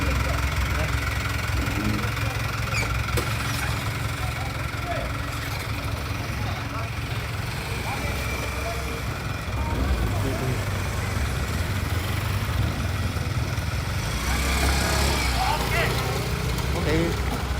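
A motorcycle engine idles steadily on a rural road in Tongko, a continuous close, rumbling drone with faint vibration that holds throughout, with some voices in the background.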